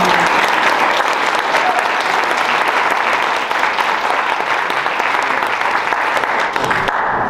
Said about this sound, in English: please join me in giving him a warm round of applause